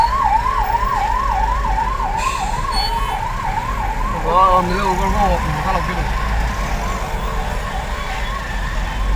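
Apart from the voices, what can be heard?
ambulance siren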